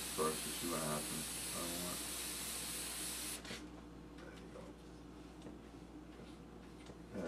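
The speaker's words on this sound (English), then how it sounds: "I'm going to spray that kind of light at first to see what happens." A steady, hissing spray of an airbrush painting a light woodgrain coat runs for a few seconds, then cuts off, leaving faint clicks and quiet background.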